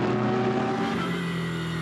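A GT race car engine at Silverstone during qualifying roars loudly and steadily, holding a high, strained tone that dips slightly as it passes.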